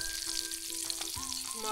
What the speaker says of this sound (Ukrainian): Смажу сало